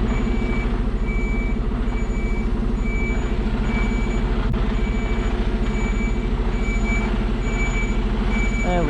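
An HGV lorry reverses a trailer, its reversing alarm beeping steadily at a regular rhythm over a loud, continuous diesel engine rumble close by.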